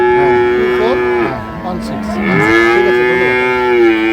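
Loud, close cattle mooing: a long sustained bellow, a brief dip, then another drawn-out moo rising back to full strength.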